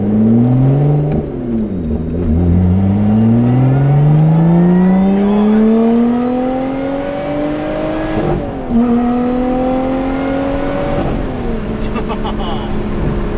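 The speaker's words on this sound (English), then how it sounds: "That supercharger whine is insane" A loud, close supercharged exotic car engine with a custom intake revs repeatedly while a high supercharger whine climbs and falls with each surge of the throttle.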